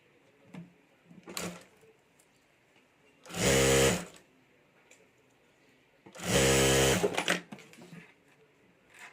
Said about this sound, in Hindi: यहाँ ऊपर हमें सिलाई कर देनी है।